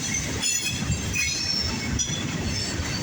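Norfolk Southern mixed freight train with gondola cars passing nearby, a steady heavy roll of wheels on rail with regular clacking and a thin, sustained high squeal.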